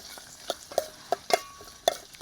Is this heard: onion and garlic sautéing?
yes